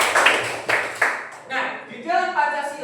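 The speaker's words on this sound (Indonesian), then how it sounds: "Bagus, tepuk tangan." A few sharp hand claps ring out in a classroom, three quick slaps in the first second, before a voice starts talking over the fading room sound.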